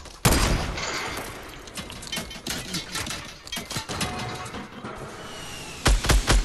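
Rapid bursts of video game gunfire crackle close and loud, with dense overlapping shots and a few sharper blasts near the end.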